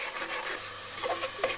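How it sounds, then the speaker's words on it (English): Scraping and rubbing of a utensil stirring onions frying in a pan, with a faint sizzle underneath, close and continuous. "you just have to keep on roasting, keep on frying"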